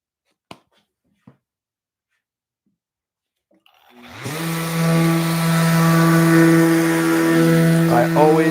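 Near silence with a couple of small clicks gives way to a power sander with 180-grit paper on an epoxy piece, spinning up after about four seconds into a loud, steady, tonal whine that runs to the end.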